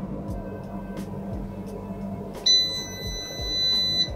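A 3D printer gives a short electronic beep tune as its print run finishes, a thin high tone with pitch steps that rises out of a low steady machine hum and fan noise.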